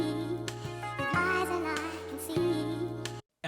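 A hip hop beat sample plays without the RC20 effect. It has sustained tonal chords over a steady low bass, with light rhythmic hits, then cuts off abruptly to silence just before the end.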